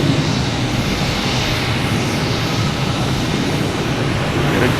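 A Delta airliner touching down at Boston Logan Airport gives a loud, steady engine roar that fills the whole stretch with no voices.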